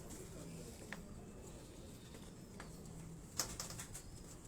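Pigeons on a Lahore rooftop coo faintly with soft wing flaps, a burst of quick flapping and clatter standing out midway against quiet background hum.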